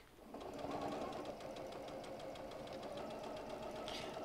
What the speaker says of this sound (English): sew it the rest of the way.